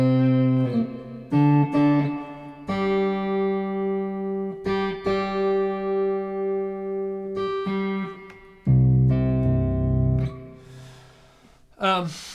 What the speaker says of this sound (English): after about a week, this is what it sounds like